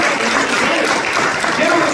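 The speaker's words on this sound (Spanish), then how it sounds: "Me dan un aplauso al Señor." Church congregation applauding during a Spanish-language sermon, a dense, steady wash of many hands clapping at close range, loud and continuous for the full two seconds.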